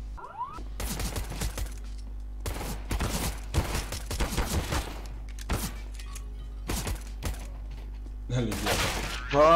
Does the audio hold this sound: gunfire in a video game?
yes